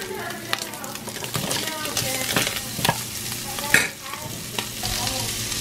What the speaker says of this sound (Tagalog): So ginisa ko na. So umpisahan natin yung bawang sibuyas.